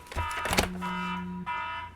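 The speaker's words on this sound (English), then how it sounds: "Never mind my phone alarm." An electronic phone alarm tone beeps in steady repeated bursts, fairly close and alone, with a brief pause before it sounds again.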